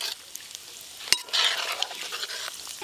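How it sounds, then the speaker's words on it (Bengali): Cashews and raisins fry in hot oil, giving a close, steady crackling sizzle with a sharp metal clack near the middle as a utensil moves them around the pan. "এবার কাজু আর কিশমিশটা ভেজে নেব।"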